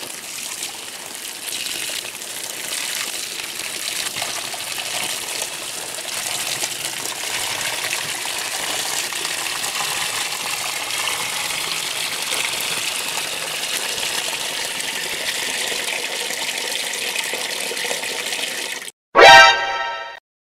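Maytag MVWP575G commercial washer filling with water for a normal cycle with warm wash and extra rinse; a steady, moderate rush of running water continues unbroken for a long stretch, ending in a short louder burst.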